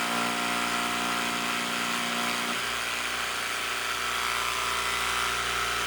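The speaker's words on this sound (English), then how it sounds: "start it up, and slowly set the jigsaw down into the wood" An electric jigsaw cutting into wood, a loud buzzing whine that shifts in pitch partway through as the blade bites into the board, with no talking.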